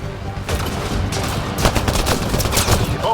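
Rapid gunfire from a Mass Effect Andromeda battle on Havarl, with bursts of shots overlapping into a dense, continuous fusillade that stays loud throughout.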